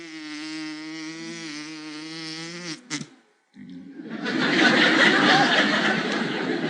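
A man imitates a bumblebee with his voice, a steady buzzing hum held for about three seconds, then after a brief pause a burst of audience laughter and applause fills the rest.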